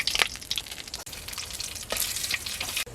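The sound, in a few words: black cumin, bay leaves, cinnamon frying in hot oil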